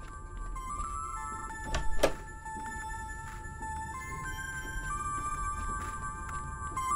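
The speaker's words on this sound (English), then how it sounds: "I think the ringing's coming from in here" An old cell phone ringing inside a train carriage in a video game, a thin repeating electronic ring tone with steady beeping pitches, accompanied by a couple of dull thunks partway through.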